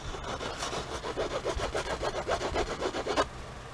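Thick, textured cardstock paper rubbed back and forth in a quick, steady rhythm, a close, soft scraping texture for about three seconds before it stops, with no talking.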